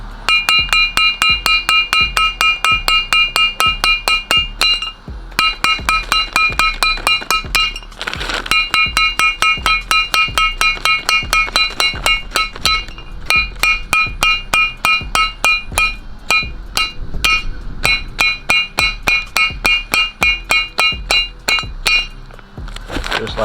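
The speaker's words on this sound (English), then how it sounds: "it's very easy to hammer out wheel studs" A hammer repeatedly strikes ARP wheel studs to drive them out of a rotor hub, producing loud, ringing metallic clinks in rapid steady runs with short pauses between bursts.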